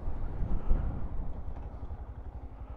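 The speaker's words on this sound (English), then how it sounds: "a little bit more responsiveness in first gear pulling away" Royal Enfield Scram 411 motorcycle pulling away in first gear after modifications, its engine giving a low, throbbing exhaust note that stays moderately loud and steady for a few seconds.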